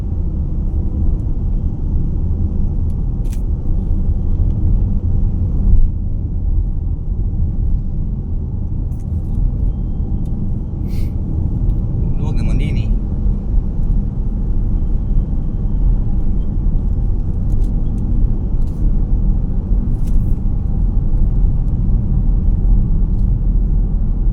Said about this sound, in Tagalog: Traffic in the Philippines.